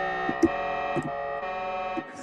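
A dubstep wobble synth built in Ableton holds a buzzy, harmonically rich tone, with faint clicks and blips at irregular moments over a steady level.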